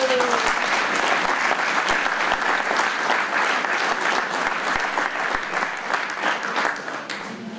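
Sustained, dense applause from a crowd at an agricultural fair in Saint-André-les-Alpes, honoring the organizers and technicians; steady and loud throughout, easing slightly near the end.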